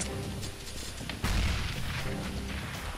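Grenade explosion in the Counter-Strike: Global Offensive video game, a sudden loud boom with a heavy low rumble that stays dense and sustained for a couple of seconds over constant background game noise.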